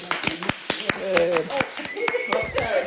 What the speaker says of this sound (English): Clapping too.